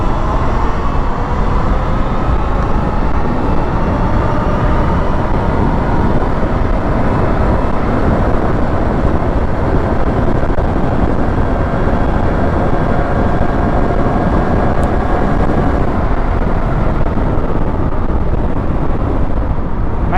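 An 8000 W Talaria Sting electric bike running at top speed in wind, a steady loud rush of wind buffeting with a faint high motor whine underneath, continuous throughout with no talk.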